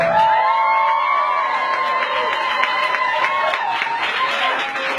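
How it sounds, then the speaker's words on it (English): A crowd at an art event for a queer community applauds and cheers for the featured artist, loud clapping running under sustained whoops and high shouted voices, steady and full from start to finish. "Everyone, please give a big round of applause to Zulfikar Ali Bhutto."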